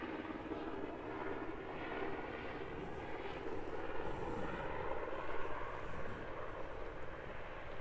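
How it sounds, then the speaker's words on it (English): Virgin Boeing 737 airliner taxiing past at a snowy alpine airport, a low continuous jet engine rumble and whine, faint and distant, swelling slightly as it passes, no talk. "As our Virgin Boeing 737 taxis past us."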